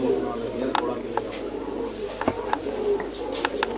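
Pilla-breed racing pigeons kept by a Punjabi pigeon fancier coo softly in their loft, with a few short chirps and clicks rising over steady background noise and nearby voices.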